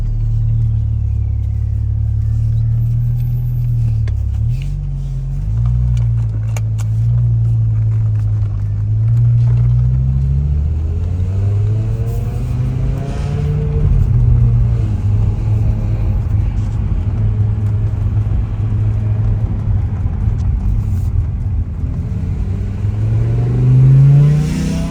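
A BMW M6 with a V10 engine rumbles at idle and is blipped a few times, its deep, throaty exhaust note rising and falling. The sound is close and steady, with no talking.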